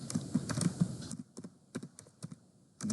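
A git command is typed on a computer keyboard, a quick flurry of close key clicks that thins into scattered taps and ends in a heavier keystroke.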